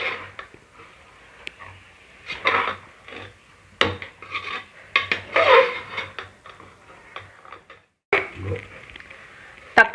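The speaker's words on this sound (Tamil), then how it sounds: "புதினா தக்காளி நல்லா கரைஞ்சி வர வரைக்கும் வதக்கி விட்டுட்டே இருப்போம்." Mint and tomato are sautéed and stirred in a pressure cooker for chicken biryani. Intermittent close scraping and rubbing strokes sound against the pot, separated by quiet gaps, with a few sharp knocks.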